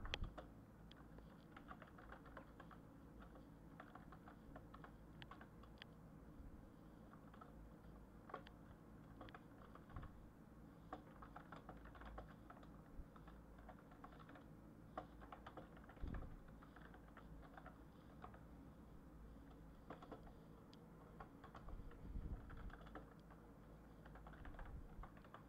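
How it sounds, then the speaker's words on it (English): Steady typing on a computer keyboard, a quiet continuous patter of keystrokes with irregular rhythm and occasional louder taps, heard close and alone against a low room hum. "I'm just typing this all out"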